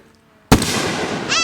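Fireworks burst outdoors at a West Virginia display: one sharp, loud boom after near silence, then a rolling crackle and rumble trailing off.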